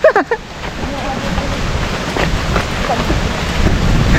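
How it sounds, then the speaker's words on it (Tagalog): Heavy rain pours on an island, a dense, steady hiss close by that builds slightly, opening with a few sharp knocks and with a voice speaking over it. "Inaabot kami ng ulan."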